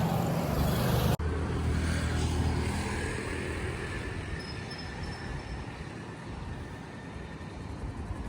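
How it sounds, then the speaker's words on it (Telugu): An auto rickshaw moving along a road in the early morning, giving a steady broadband rumble and road roar with a sharp thump near the start and faint high squeal, no talk heard. "వెంకీ ఆటోలో వెళ్తున్నాము."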